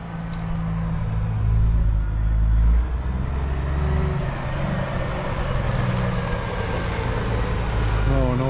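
A farm truck hauling its first load of corn rolls in with a loud, continuous heavy engine rumble that shifts in pitch as it approaches.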